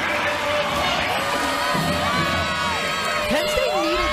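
A large arena crowd cheers and whoops continuously at a Penn State versus Kentucky women's college volleyball match, with a loud, dense roar and a commentator's voice faintly beneath it.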